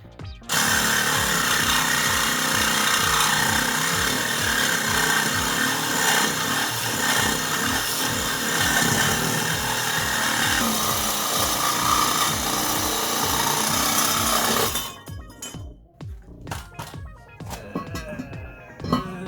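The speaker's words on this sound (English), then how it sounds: "Nope, I'm just using a saber saw." A saber saw cuts through exhaust pipe under a Toyota Camry sxv20, its loud, harsh reciprocating rasp running continuously for about fifteen seconds before stopping, followed by a few clanks and scrapes of metal.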